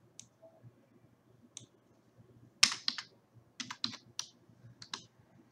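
Keys clatter on a computer keyboard as a command is typed: scattered single taps followed by quicker bursts of clicks, close and fairly soft, with no voices.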